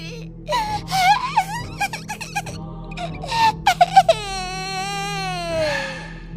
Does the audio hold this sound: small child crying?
yes